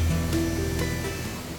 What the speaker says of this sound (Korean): 많은 폭포수가 시원하고 장쾌한 소리를 내며 계곡 아래로 쏟아집니다.